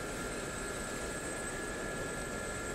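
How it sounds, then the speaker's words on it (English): Gazelle helicopter engine in a combat flight simulator, a steady loud turbine whine with constant broadband rushing noise and high tonal hums, unbroken throughout. "Oh, I love this helicopter."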